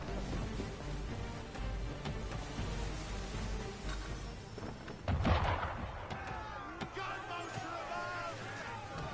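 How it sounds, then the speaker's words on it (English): Cannon fire aimed at a ship in Assassin's Creed 3 Remastered: several heavy booms and sharp reports, one especially loud blast mid-way, set against crowd and battle noise with voices speaking over it. "Why is he shooting at us?"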